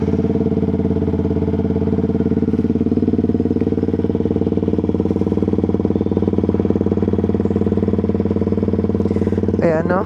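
A motorcycle engine idles steadily after a cold start, a loud, even rumble running unbroken throughout, with a brief higher burst near the end.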